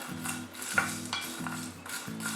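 Crisp-roasted tea masala spices get stirred in a dry pan, producing close, rhythmic scraping strokes with rustling crackle, repeated several times in quick succession.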